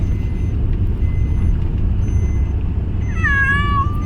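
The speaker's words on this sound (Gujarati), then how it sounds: "મ્યાઉ મ્યાઉ ચાલુ થઈ ગયું છે" A single drawn-out cat meow rises near the end over a steady low engine rumble, close and clear.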